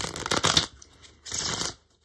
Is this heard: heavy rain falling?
no